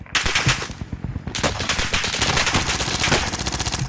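A PPSh submachine gun fires in the video game Warzone: a loud, rapid, continuous burst of automatic shots with a fast, even rhythm, heard alone without speech.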